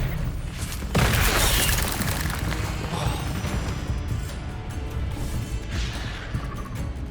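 The Expelliarmus disarming spell is cast in Hogwarts Legacy, giving a loud whooshing crash about a second in, followed by a rumbling, swirling tail of magical noise and a softer burst near the end.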